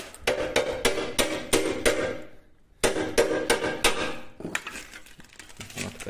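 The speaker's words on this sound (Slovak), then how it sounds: "To asi s kladivom vybúchať von." Sharp metallic hammer blows striking parts loose on a Jawa 50 moped, about eight loud, evenly spaced bangs, a short pause, then another rapid run of hits followed by lighter clinking and rattling.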